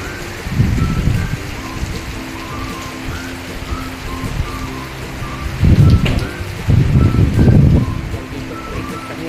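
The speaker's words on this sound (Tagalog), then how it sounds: "patuloy po ang paglakas ng ulan" Heavy typhoon rain pouring in Valenzuela City during Typhoon Uwan, a steady hiss with bursts of heavier downpour that swell and fade, close by and loud, with no talking.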